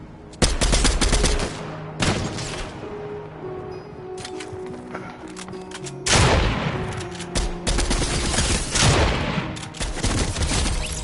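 Rifle gunfire in a video game shooting gallery: repeated loud bursts of rapid shots in several volleys, with brief gaps between them, close and dominant with no talking.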